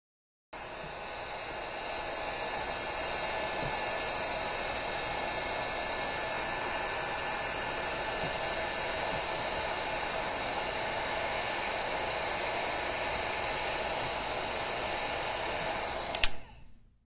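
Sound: heat gun stripping paint from furniture

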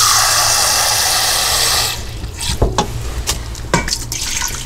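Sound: pouring two cups of water into a pressure cooker

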